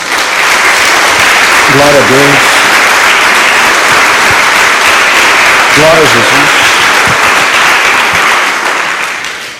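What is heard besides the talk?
church congregation applause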